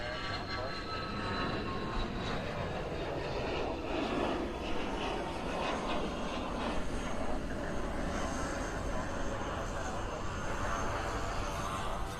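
A Qantas heavy airliner takes off from runway 8 right at Honolulu, heard as a steady, broad jet roar that holds at a moderate distance for the whole stretch, with no talking.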